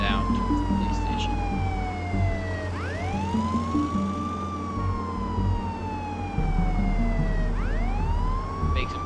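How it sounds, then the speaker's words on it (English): Police car siren in the video game Contraband Police, a loud rising and falling wail that sweeps up twice, over steady engine and road rumble with faint talk. "let's put on our siren as we head down to the police station"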